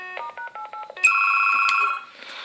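A phone on a SOHO-308C PBX system auto-dials an extension: a quick run of about eight dialing tones, then a loud, piercing sustained ring tone that cuts off and leaves faint hiss.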